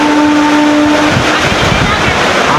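Heavy wind-driven rain lashes down in Hyderabad at a railway platform, a loud, unbroken roar of water and gusts filling the whole stretch.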